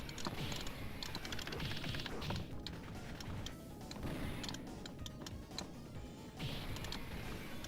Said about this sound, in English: it kind of sounds like a glass breaking sound effect